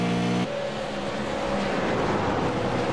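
Race cars accelerate after the green flag, several engines roaring together into turn one in a steady loud drone with rising pitch and no talking.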